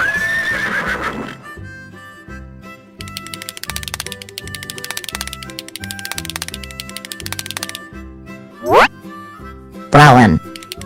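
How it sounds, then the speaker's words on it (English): A cartoon horse gives two loud whinnies near the end of a children's nursery rhyme track, heard over bouncy music. "Horse."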